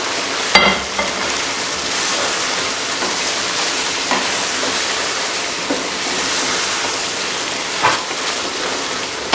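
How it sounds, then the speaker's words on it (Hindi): Chicken karahi with achari spices, salt, turmeric, garam masala and black pepper frying in oil, a steady close sizzle with occasional sharper crackles and stirring clatters, no talking. "अब इन मसालों के साथ इसे 3 से 4 मिनट भूनेंगे।"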